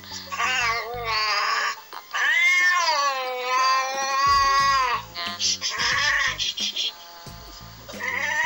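A water-fearing cat being bathed meows loudly and insistently in long, drawn-out wails, several cries in a row with brief pauses between them, close up.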